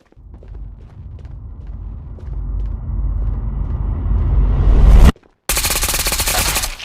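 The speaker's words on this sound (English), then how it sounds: "I just shot him in the face with the AS-VAL 100 times" Sustained automatic fire from an AS-VAL rifle in a first-person shooter game, a loud continuous rattle that builds with rumbling, cuts out briefly, then resumes as a dense burst.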